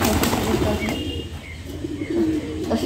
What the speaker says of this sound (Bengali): কবুতরগুলো মাঝখানে বসে আছে